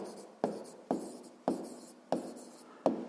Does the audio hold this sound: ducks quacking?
no